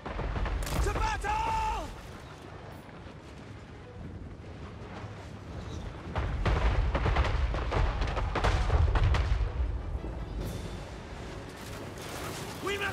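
Cannon and artillery fire from a Total War: Warhammer 3 battle, with repeated booming blasts and heavy rumbling, loudest in the middle stretch, layered under game voices and battle noise.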